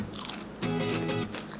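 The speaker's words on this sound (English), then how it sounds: "I don't know if you guys can hear that, but it's really crunchy." Bites into crunchy keto air-fried zucchini fries, a close, brief crisp crunch followed by chewing, with no talking.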